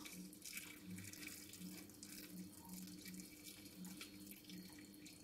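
Warm water from a cup pours steadily into a tray of marinated chicken pieces in a home kitchen, a continuous close splashing trickle lasting several seconds with no talk.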